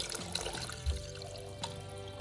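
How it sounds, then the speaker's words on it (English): Four cups of water pour steadily into a pressure cooker pot, a soft continuous splashing stream with a couple of faint clunks. "Then I'm gonna add 4 cups of water"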